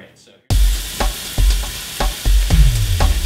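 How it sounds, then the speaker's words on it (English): Loud, steady sizzling and crackling of bacon frying in a pan, with a few sharp clicks and scrapes, starting abruptly after a brief quiet moment. "Sizzling bacon."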